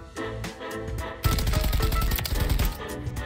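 Rapid automatic gunfire from a gun in Call of Duty Modern Warfare 3 starts over a busy game backdrop, then swells into a loud, dense, sustained stream of shots that rattles on steadily to the end.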